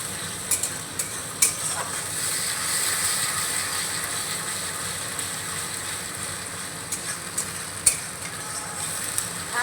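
A paste of ground ginger, tomato and green chili sizzles steadily in a pan while being stirred, with a constant frying hiss and occasional scraping clicks of the spoon, close and moderately loud, no voices.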